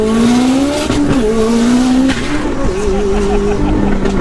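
A 900 HP Mitsubishi Evo launches at full throttle from a light in Mexico City: a loud, close engine roar that climbs in pitch through quick gear changes, with some tire noise mixed in.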